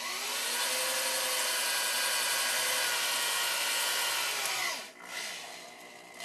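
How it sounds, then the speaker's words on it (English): A power drill whines continuously at high speed, boring a hole through plastic up close, then winds down near the end. "Okay, so I drilled a hole inside. I know this is plastics, but that's okay."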